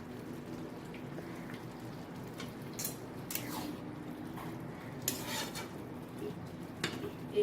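A pot of khichdi made with rice and lentils is stirred with a spoon, giving soft scraping and occasional light metallic clinks against the pot, fairly close and steady.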